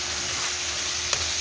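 Chicken frying with soy sauce in a pan, a steady close sizzle with one brief clink near the end, no voices.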